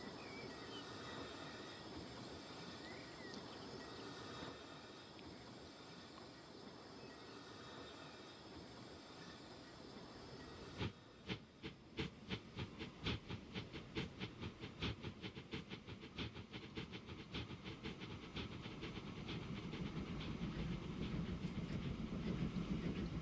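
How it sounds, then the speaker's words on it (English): A video game train in Transport Fever rumbles along with a steady hiss, then rhythmic clickety-clack of wheels picks up and grows louder as it passes close by. "Oh, that monster of a train."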